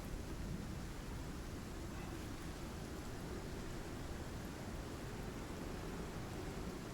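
Steady rain and storm wash from a thunderstorm in the survival game Icarus, a dense, continuous low roar that holds at an even level throughout with no distinct thunder claps and no one speaking.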